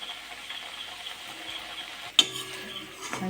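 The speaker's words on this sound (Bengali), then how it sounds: "বাকিগুলো আমি একইভাবে ভাজা করে নেব।" Flour patties frying in hot oil in a home kitchen give a soft, steady sizzle throughout, broken by one sharp clink of a utensil partway through.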